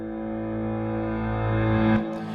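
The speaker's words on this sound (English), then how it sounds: "then you just reverse it. So you record it in like this" Reversed low piano note, a sustained tone with rich harmonics swelling gradually louder before cutting off sharply, followed by a brief noisy tail.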